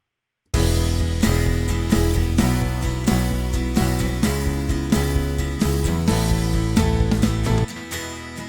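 Acoustic guitar part recorded in mono, double tracked and panned to give a wide stereo image; steady strummed chords ring out loud and full for about seven seconds before stopping.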